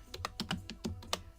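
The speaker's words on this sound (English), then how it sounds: "I'm just typing up a little poll really quick." Keys clatter on a computer keyboard in a quick, uneven burst of about eight taps, close but fairly quiet, with no voices.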